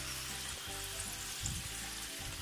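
Bakso goreng, Indonesian fried meatballs made without egg, frying in hot oil, a steady close-up sizzle and crackle that carries on without pause.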